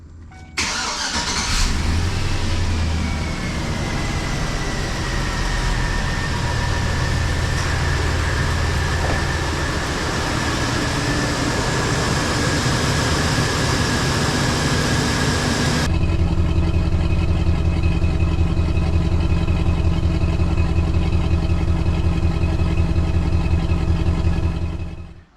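A Chevy Silverado truck engine cranks and starts after a tune-up, then settles into a steady, loud idle that shifts to a deeper, rougher hum partway through, with no talking.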